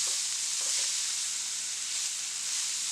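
A steady, dense hiss of rice and beets being stirred in a hot pot during Caribbean Christmas rice cooking, continuous and close with no talking.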